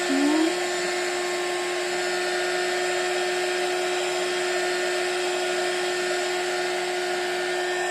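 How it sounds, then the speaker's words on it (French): An electric heat gun blows steadily at close range while warming craft stamp foam, giving a constant whirring drone with a faint whine that holds unchanged throughout. "je vérifie que mon heat gun soit bien chaud. Donc voilà, je chauffe partout."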